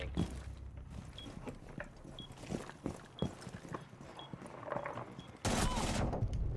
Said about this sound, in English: Why is my teammate shooting me?